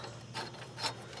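Ratchet working a mower pulley bolt, giving two soft, quick clicking strokes within a faint, brief moment with no voices.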